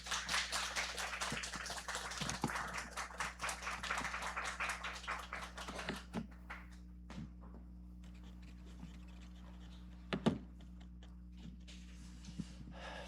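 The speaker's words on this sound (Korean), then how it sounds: "우리 서모세 선교사님 나올 때 큰 박수로 환영해 주시기 바랍니다." A church congregation claps to welcome a missionary pastor at a Sunday service. Dense clapping over a low hum fades into scattered, sparser claps and a few isolated sharp taps.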